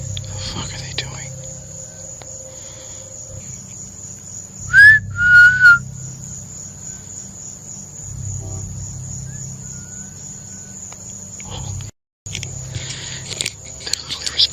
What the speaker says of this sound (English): They're literally responding to my whistle.